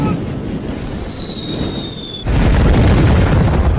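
Grenades go off on a battlefield, heard as a high whistling streak that falls in pitch and then a sudden loud, sustained roar of blasts and rumble.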